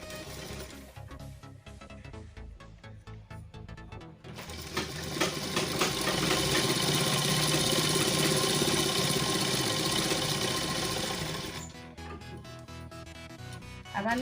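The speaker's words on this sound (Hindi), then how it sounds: "अब हम दोनों इस तरह से रखते हुए इसे हम सिलाई लगा लेंगे" Sewing machine stitching two salwar fabric pieces together, a steady close mechanical whir that rises to a louder sustained run in the middle before easing back, with no talking.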